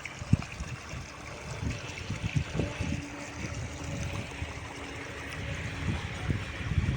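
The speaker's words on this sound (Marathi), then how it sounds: "त्याच्या मागून पाणी चालू आहे" Irrigation water trickles and gurgles steadily close by through a young wheat field, with scattered low knocks and faint background rumble throughout.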